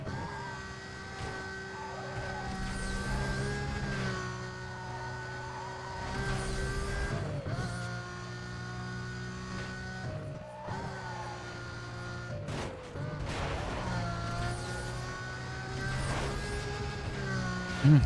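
A car engine in Need for Speed Most Wanted roars at sustained high revs in long, loud stretches, with brief drops at each gear change before it climbs again. A voice talks underneath.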